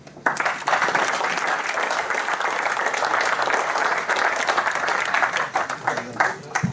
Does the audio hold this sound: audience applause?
yes